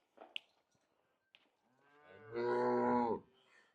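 A black first-calf heifer, offered for sale with her calf, gives one loud, drawn-out moo close by after a few faint thuds and short sounds.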